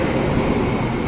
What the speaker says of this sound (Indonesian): Kereta Argo Sindoro relasi Jakarta Gambir menuju Semarang Tawang.